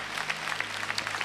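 Applause from a church congregation during a French-language service, a light, steady patter of clapping that runs for about a second with no voices over it.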